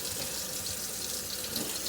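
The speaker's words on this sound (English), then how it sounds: "Very important to wash your meat with some vinegar." Chicken being washed in water with vinegar in a kitchen, a steady faint splashing and running-water rush, short and without talk.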